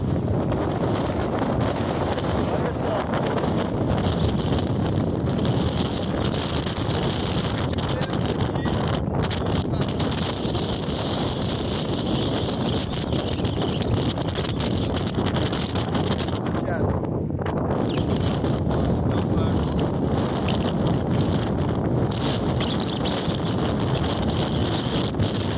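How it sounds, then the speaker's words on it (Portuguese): Strong coastal wind blows near the Santa Marta lighthouse, buffeting the microphone as one loud, continuous roar with rushing gusts for the whole stretch. "é muito forte esse vento."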